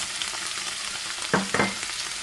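Onions, garlic and spring onions fry in a pan with a steady, close sizzle, and two short bursts of stirring or clattering come near the end.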